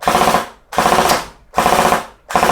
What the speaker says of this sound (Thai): ก็คือเรายิงเป็นชุดๆ นะครับ